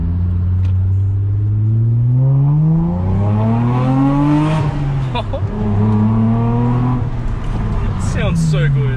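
A Mitsubishi Lancer accelerates hard in first gear, its loud close engine tone rising steadily in pitch with a brief dip between pulls, heard from inside over road noise.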